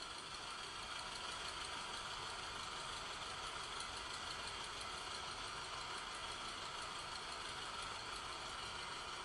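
A tractor engine runs steadily while pulling inline-fitted drip irrigation tube across a field, a continuous mid-pitched mechanical drone with a faint knocking character, even and unbroken throughout with no voices.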